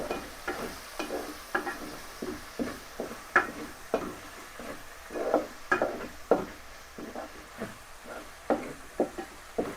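Thick masala for a Madurai-style spicy chicken ketti kulambu is stirred and sautéed in a pan, a steady run of scraping, knocking spoon strokes over a soft sizzle, close and even throughout.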